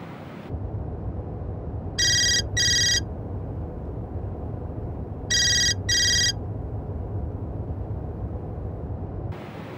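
A phone rings back on an outgoing call, two paired double bursts several seconds apart, steady and electronic over a low background hum, with no talk over it.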